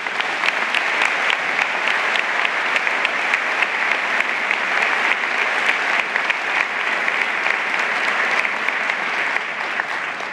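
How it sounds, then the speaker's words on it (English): Steady, dense applause from a large commencement audience at a law school graduation, continuous clapping without pause that eases slightly near the end. "So will you join me in a round of applause for Alan?"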